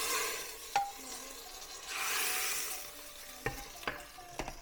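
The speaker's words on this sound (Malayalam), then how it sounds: "ഇനി നമ്മൾ ഈ കടുക് വറുത്തത് പെട്ടെന്ന് തന്നെ നമ്മൾ ഈ മോരിലേക്ക് ഒഴിക്കുകയാണ്." Fried mustard seed tempering poured into hot buttermilk for a Kerala mango pulissery gives a soft sizzling hiss, faint and close, with a few sharp clinks of a utensil against the pot.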